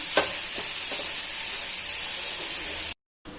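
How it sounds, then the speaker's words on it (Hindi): Spinach sizzles loudly in a pan with salt as it is stirred, a dense, bright frying hiss with a few soft scraping strokes, cutting off abruptly near the end before resuming briefly. "पालक को गलने तक पकाना है।"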